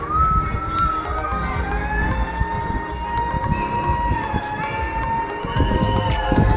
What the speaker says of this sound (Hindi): कितनी ज़ोर से सायरन बज रहा है, इसका मतलब वेव पूल में वेव्स तैयार हैं।